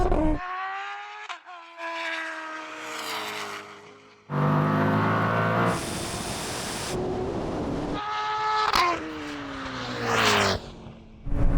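A Koenigsegg, a Tesla Plaid and a turbocharged Hayabusa motorcycle drag race, with loud engine tones sweeping and shifting pitch, a harsh roaring rush of noise in the middle, then more rising whines, continuous and close.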